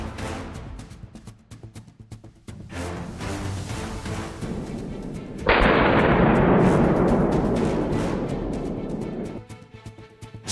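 Rifle fire during a wild boar hunt in a swamp with hounds, a sharp close report followed by a long rolling echo, after a run of fainter popping shots.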